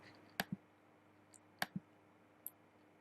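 Two quick mouse double-clicks, each a pair of sharp close clicks, plus a couple of faint ticks, made while working in Unity's MonoDevelop editor in a quiet room.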